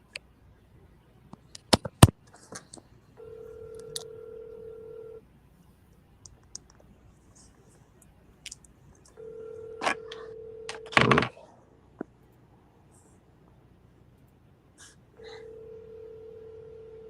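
A phone places a call and plays a repeating ringback tone in steady bursts with silent gaps between them. A few sharp clicks and handling knocks come through up close.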